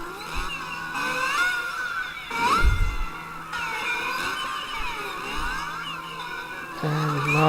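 A Force India Formula 1 car's engine whines and sweeps up and down in pitch as its Silverstone lap plays back in rewind in the Automobilista racing game. The warped revving is loud and steady throughout.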